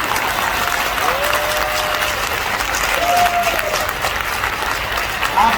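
An audience at a motivational speech event in Goa claps together in a dense, sustained burst of applause that stays loud throughout, with crowd noise blended in.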